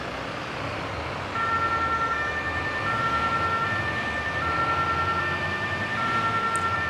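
A fire engine siren wails steadily in the emergency-response game Notruf 112, a clear sustained tone rising and falling in a two-note pattern over a broad rumble of engine and road noise, close and loud, with no speech.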